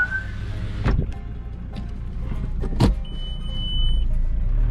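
Power window on a VW Sharan 1.9 TDI sliding down with the diesel engine running, a thin steady motor whine over a low idle rumble, with a couple of sharp clicks and knocks before it.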